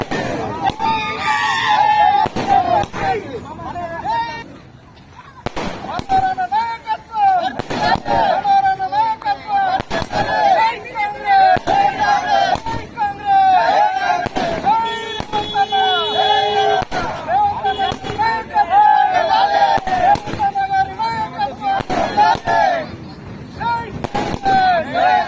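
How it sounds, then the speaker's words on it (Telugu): Firecrackers bursting at a village celebration of a Congress election victory in Telangana, a dense run of rapid cracks and bangs continuing throughout, with a crowd cheering and shouting over them. "యాలల మండలం దౌలాపూర్ గ్రామంలో టపాకాయలు పేల్చి ఉత్సవాలను నిర్వహించారు."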